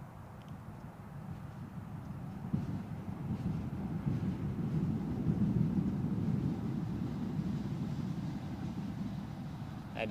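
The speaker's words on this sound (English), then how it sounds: "the sound you just heard there is the metro line that runs directly behind the camera position" A metro train runs on the line near Newcastle airport, a steady low rumble that swells slightly and then eases, distant and continuous with no voices.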